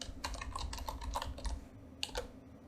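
Keys on a computer keyboard are tapped in a quick, uneven burst while a new username is entered during a Linux (WSL) setup on Windows 10: close, light clicks with a brief pause near the end and no voices.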